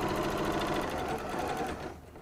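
A sewing machine stitching fabric strips together in a quarter-inch seam, a fast steady mechanical whirr with regular needle ticks, close and moderately quiet, slowing and fading out near the end.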